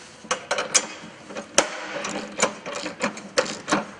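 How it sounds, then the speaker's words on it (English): A wrench tightens bolts on an ATV snow plow mount, giving a series of quick metallic ratcheting bursts in an uneven rhythm, close and moderately loud, with no talking. "Now go ahead and tighten up your bolts."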